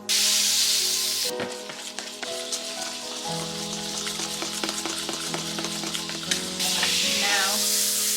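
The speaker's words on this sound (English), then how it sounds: "Now, putting my butter in here." Butter frying in a hot pan on a stove, a loud continuous sizzle with crackling pops and some clinks of cookware, no talking.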